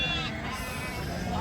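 Sheep bleating at a sheep market among a flock of about thirty sheep with lambs, several overlapping wavering calls close by, with voices talking underneath throughout.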